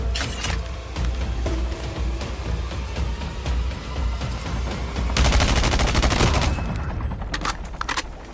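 Rapid bursts of video game gunfire crackle in quick succession, sharp repeated shots and automatic volleys that intensify midway, with no voices.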